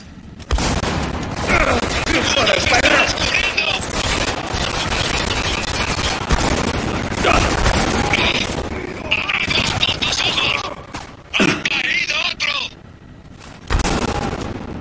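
Heavy gunfire from the video game Spec Ops: The Line, with sustained automatic bursts and booming shots filling the clip, loud and dense with brief pauses between volleys.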